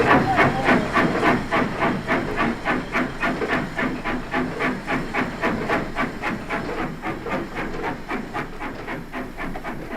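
A steam locomotive chuffs and hisses in a fast, even rhythm of loud steam exhaust beats that carry on without a break, close and prominent.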